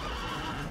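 A horse neighing in Assassin's Creed, a short whinny over a dense, continuous game background, with no talk.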